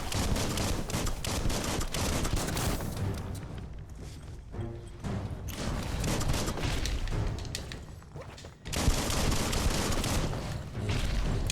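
Gunfire in the video game Biomutant, sustained and dense with loud bursts running under a constant wash of game sound, briefly thinning mid-way before picking up again.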